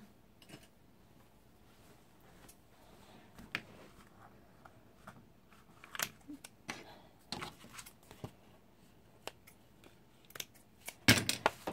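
Scissors trimming the thread on a handmade travelers notebook insert, producing faint, sparse clicks and snips in a quiet room, with a sharper cluster of cuts near the end.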